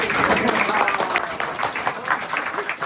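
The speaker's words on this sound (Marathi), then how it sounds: "खूप मस्त टाळ्या वाजवणार चिमणी" Dense, even clapping fills the stretch with a busy patter, as a birthday gift opening includes a clapping sparrow toy.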